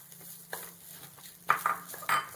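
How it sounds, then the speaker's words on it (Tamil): A spoon scrapes and taps in a pan while rice flour and finely grated coconut roast, giving soft intermittent stirring strokes and a few sharper metallic clinks, close and quiet. "இதை பேனில் போட்டு வறுத்துக்கிடணும்"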